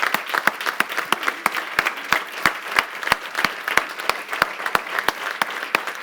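An audience at a summit applauds the event's facilitators with sustained, fairly loud clapping, a dense crowd patter punctuated by crisp, evenly spaced nearby claps throughout.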